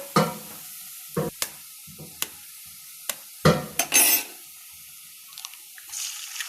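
Egg for egg burji cooks with golden fried onions in a pan, soft sizzling punctuated by sharp clinks and scrapes of a utensil stirring, with quiet gaps between.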